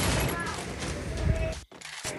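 Rapid P90 submachine gun spray in the Free Fire battle royale game, a dense burst of loud automatic fire that cuts out briefly near the end and then resumes.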